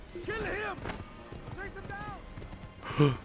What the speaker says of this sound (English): Especially when I'm on a horse, galloping away.